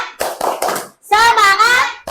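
A classroom of children claps a rhythmic cheer in quick bursts, then chants together loudly, close and energetic, with a short pause between the clapping and the voices.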